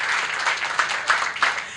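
Audience at a women's empowerment event claps in unison, with a few distinct synchronized clap peaks standing out over continuous applause-like crowd noise, moderately loud and close.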